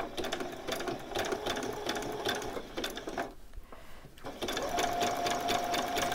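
A sewing machine stitches T-shirt fabric in a fast, even whirring run, pauses briefly, then starts again with a back stitch, close and moderately loud.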